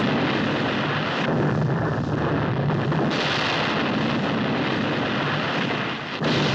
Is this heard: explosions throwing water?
yes